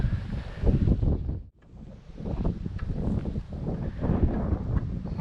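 Strong gusty wind buffets the microphone at a lakeside during carp fishing in June, a loud, continuous broadband roar with a brief lull before building again, no voices present.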